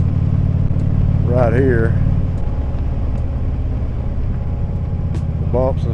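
A car with newly installed shocks cruises along a highway, its steady low road and engine rumble continuous beneath someone talking throughout.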